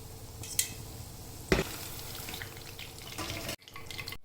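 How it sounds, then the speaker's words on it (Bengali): Korean fried chicken frying in oil over low heat, a steady dense sizzle with a few sharp clatters and a brief drop in level near the end, close and without talk. "পরের সেটগুলো আস্তে আস্তে ভেজে নেব"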